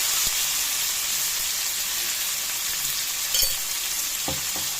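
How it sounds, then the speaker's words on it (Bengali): Red, yellow and green bell peppers fry in oil with a little salt, giving a steady close sizzle throughout, broken by a few soft knocks of stirring near the end. "একটু ভাজা ভাজা করে নিচ্ছি।"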